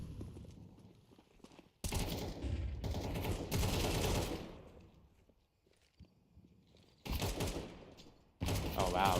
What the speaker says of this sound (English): Good shooting from Clax.